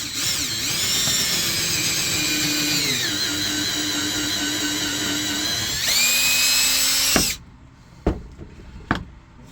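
A high-pitched power drill whines continuously, changing speed as it bores, then stops, followed by a few sharp knocks.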